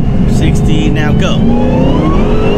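A supercharged 1000 hp Dodge Hellcat accelerating hard with a brief chirp of wheelspin, its engine roaring loud and steady from inside the car as the pitch climbs.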